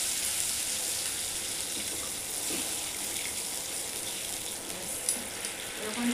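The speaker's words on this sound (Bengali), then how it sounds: "এবার আমি জলটা অ্যাড করে দেবো।" Water goes into a hot pan of vegetarian potol dorma, giving a steady, moderate sizzle and bubbling hiss with light splashing, fairly close and continuous, and a couple of small knocks near the end.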